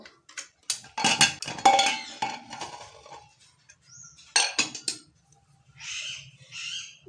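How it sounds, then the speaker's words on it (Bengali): Metal clinks and scrapes of a pressure cooker being opened after a cake has baked inside it, with a string of sharp clatters early on, a brief hiss-like burst later, and quiet gaps between the handling sounds. "এবার প্রেশার কুকারটা খুলবো"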